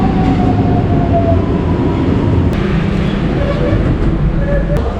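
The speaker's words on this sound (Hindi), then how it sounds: "अभी मैं मेट्रो में हूँ, एयरपोर्ट जा रहा हूँ।" Loud, steady rumble of a Lisbon metro train in motion, heard from inside the carriage, with faint squeals of the wheels and rails.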